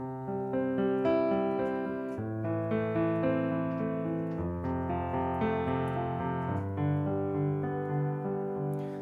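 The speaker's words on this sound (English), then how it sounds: "And with the sustain pedal, it sounds like this." Sustained piano chords ring and blend into one another, held by the pedal, moving slowly and evenly with no voices present.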